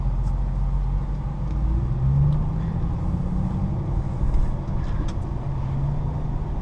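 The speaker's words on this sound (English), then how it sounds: "let's get driving." A car drives along at a steady pace, heard from inside as a constant low rumble and road noise that swells slightly midway, with no voices.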